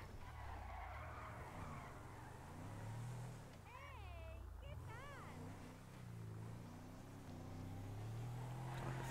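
A car in GTA 5 revs and skids with tire squeal, its engine drone running steadily throughout, while a voice talks over it in short bursts.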